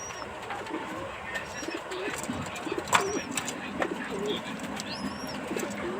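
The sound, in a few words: pigeon cooing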